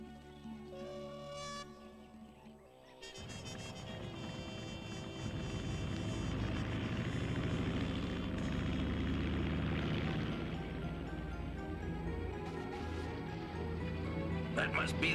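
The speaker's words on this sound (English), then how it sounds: "That must be the seaplane." A cartoon seaplane drones overhead, its propeller engine rising into a steady, loud hum under music and character voices.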